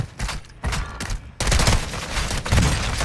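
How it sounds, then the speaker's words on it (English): A friendly airstrike in a first-person shooter game, with dense, loud bursts of rapid explosions and gunfire that build into a sustained heavy barrage. "friendly airstrike in the air."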